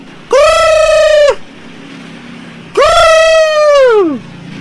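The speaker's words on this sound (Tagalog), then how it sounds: "Ayan yun nga yung manok." A rooster crows twice, each call a loud, drawn-out cry lasting about a second, separated by a short pause of quiet background.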